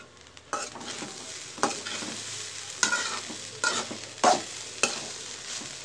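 A spoon or spatula stirs egg fried rice in a hot pan, giving repeated scraping strokes every half second or so over a soft, continuous sizzle of frying.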